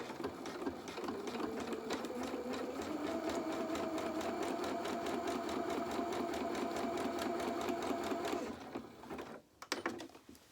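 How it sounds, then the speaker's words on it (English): A domestic sewing machine stitching a zigzag seam runs at a steady, even rapid rhythm for about eight seconds. It then stops, followed by a few faint handling clicks. "So let's put it back onto my zigzag stitch."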